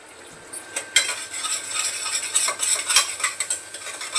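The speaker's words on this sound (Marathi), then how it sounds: "एकदम अशी बारीक कापून घेतली कोथिंबीर आणि टाकते फोडणीमध्येच." Finely chopped coriander leaves stirred into a hot onion-tomato tempering in oil, with a steady sizzle and crisp scraping strokes of a spoon against the pan, close and fairly loud throughout.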